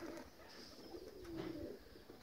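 A pigeon or dove coos in low, soft repeated notes nearby, a steady murmuring call carried over faint outdoor background noise.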